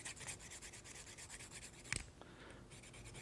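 A knife blade drawn in repeated rubbing strokes against a sharpening stone to raise a burr, a steady rasping scrape with one sharper knock partway through, quiet and close.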